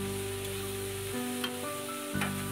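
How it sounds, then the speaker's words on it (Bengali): A spoon works through thick tomato chutney in a hot pan, sizzling softly and steadily with a few scrapes against the pan, close and alone with no voices. "দেখো অনেকটা চাটনি নেড়ে নিচ্ছি"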